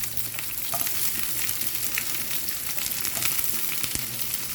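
A medium-sized onion goes into hot oil for a chickpea stir-fry, giving a steady continuous sizzle with a few faint clinks of stirring, close and alone with no talking.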